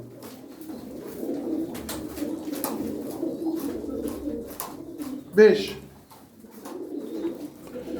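Low, rolling pigeon coos continue steadily through the clip, with someone speaking briefly and a short sharp rustle or flap midway.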